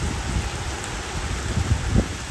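Heavy rain pours down in Kuwait, a dense, steady hiss of falling water with a few low thumps underneath. No voices are heard.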